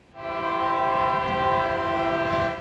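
Loud steady train horn with a sustained chord of tones on a railroad stretch, holding for over two seconds over low rumble, with no talk.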